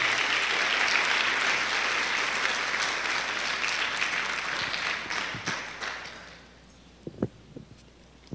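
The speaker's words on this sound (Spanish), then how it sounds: "Denle un aplauso a nuestro Dios." A church congregation applauds God during a sermon, broad sustained clapping from a large crowd that gradually thins and fades, ending in a few scattered claps.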